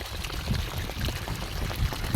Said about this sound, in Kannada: full pure water, underground water ಹೆಂಗೆ ಓವರ್ಫ್ಲೋ ಆಗ್ತದೆ